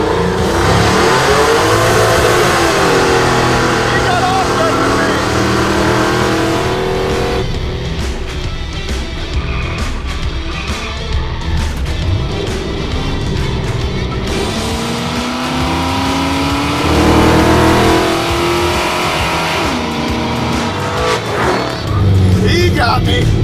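Loud roaring engines rev and accelerate hard as a supercharged 4.6 truck races a naturally aspirated 5.7 LS6 truck, rising and falling in pitch as they pass, with tire noise and shifting gears throughout.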